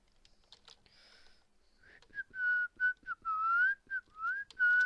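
A person whistles a series of short rising and falling notes, several quick phrases in a row, close and clear against a quiet background with light clicks at the start.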